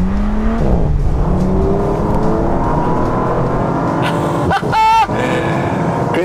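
A 2018 Bentley Continental GT accelerates hard, its engine roaring with rising pitch, then a brief shift dip before another short climbing surge, heard loud from close by with a faint voice under it.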